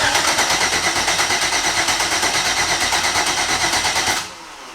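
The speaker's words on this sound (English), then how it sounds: "So I'm just gonna crank it with no fuel injection" A twin-turbo Chevrolet Malibu engine cranks over with no fuel injection, a loud, steady rhythmic churning from the starter that runs for about four seconds and then stops abruptly, leaving a quiet hum.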